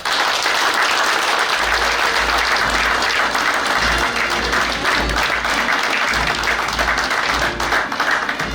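Audience applause at a naval warfare course graduation ceremony at the Naval War College in Nigeria, loud continuous clapping from a large crowd holding steady for several seconds, with a low hum running underneath.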